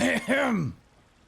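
A character in the video game Avowed clears their throat with a short, gruff double rasp up close, trailing off into quiet.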